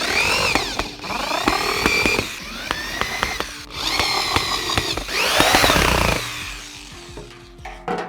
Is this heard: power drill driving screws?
yes